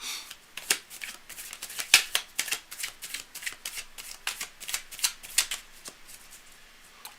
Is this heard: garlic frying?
no